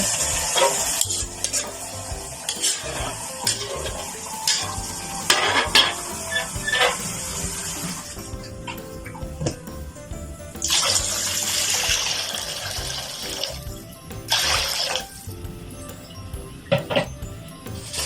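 Broth, about two liters, pours into a pan for sotanghon and canton noodles, a gushing liquid rush in several bursts with stirring and sizzling between, close and fairly loud, no talking.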